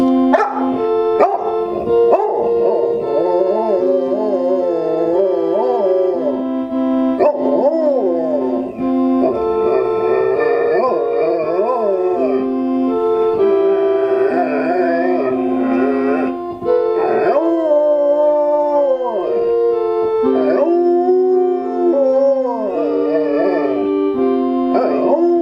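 A dog barks and howls along to a hymn tune, mixing sharp barks with long rising howls over steady instrumental music, close and loud throughout.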